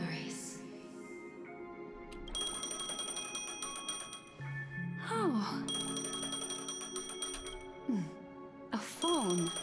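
A phone rings inside the video game Honkai Star Rail, a bright repeating electronic ringtone with steady tonal pulses over layered game music, and a brief voice exclamation.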